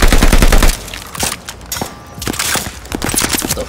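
Assault rifle gunfire in a first-person shooter video game, a dense loud burst up front followed by repeated rapid shots and crackling impacts, with no talking.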